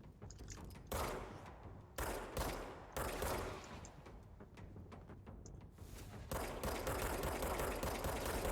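Bursts of rapid automatic gunfire in a video game repeat roughly every second, then shift into a denser, sustained volley near the end, loud and up close.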